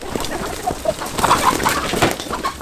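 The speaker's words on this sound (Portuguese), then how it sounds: "Eu corro atrás das galinhas." Chickens clucking and squawking in a natural outdoor setting, several short calls scattered over steady rustling background noise, fairly close.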